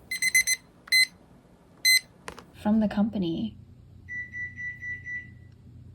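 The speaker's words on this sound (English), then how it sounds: "Don't mind me, that's my oven timer." Electronic oven timer beeping in a home kitchen: short, bright, evenly spaced beeps in quick bursts, then a softer sustained tone near the end, alternating with close speech.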